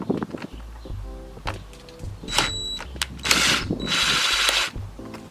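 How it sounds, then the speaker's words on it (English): A flathead screwdriver loosens the air filter housing clamp on a Jaguar XJ X351, giving close, irregular metallic clicks and ratcheting scrapes with brief louder bursts of handling noise between them. "So first thing with the flathead, we're going to be loosening this clamp right here."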